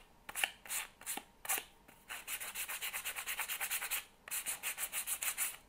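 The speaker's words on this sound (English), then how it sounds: "I'm really sanding like on the edge because I want that area to look good and warm." Rhythmic, scratchy strokes of sandpaper rubbing along the edge of a thin board, a few slow passes followed by quick, even back-and-forth bursts, close and clear.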